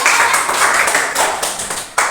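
Several sharp hand claps, close and fairly loud, ringing out in an irregular sequence during a classroom lesson.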